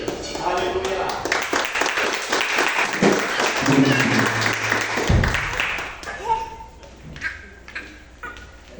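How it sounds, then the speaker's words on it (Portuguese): A church congregation at a praise service claps loudly in a dense burst with voices calling out over it, then the clapping dies away while a voice carries on. "Vamos receber eles com uma salva de palmas para o Senhor"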